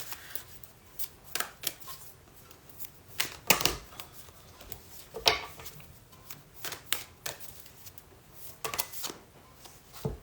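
Moonology oracle cards being shuffled by hand, a run of soft riffling flutters and sharp card snaps in irregular bursts, close and fairly quiet, with no talking.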